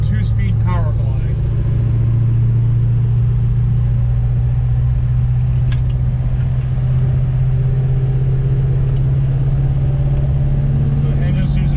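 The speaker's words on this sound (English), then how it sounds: "There's no problem pulling the Chevelle down the road." A 1966 Chevelle Malibu with a 283 small block V8 and two-speed Powerglide cruising down the road, a steady low engine drone heard from inside the car, with someone talking briefly at the start.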